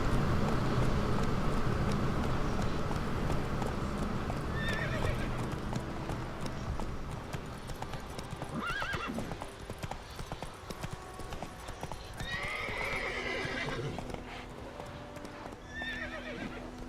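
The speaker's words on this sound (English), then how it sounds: "Pretty horse." Hooves clip-clop steadily at close range while a horse gives a few whinnies over a constant background rumble, in the video game The Witcher 3.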